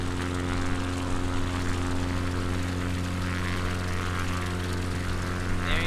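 A Cessna 172 propeller engine in a flight simulator game, a steady droning hum with strong tonal harmonics that stays constant and loud throughout.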